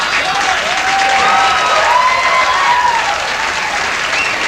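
Studio audience applauding in a late-night talk show, dense steady clapping at full volume with a few whoops rising over it and no talking.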